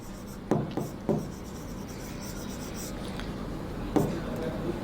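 Chalk or marker writing on a board during a chemistry lesson: a few short scratchy strokes sound close over a quiet room.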